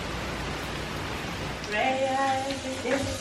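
Steady broadband rain hiss on a rainy day fills the clip, with a faint voice-like tonal sound rising briefly near the end.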